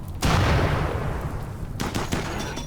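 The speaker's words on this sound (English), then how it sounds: "Phillips landing shot after shot, but that mech remains standing." Gunfire aimed at a mech in RimWorld combat cracks out as a loud opening shot with a decaying tail, followed by a second volley of quick shots, close and without talk.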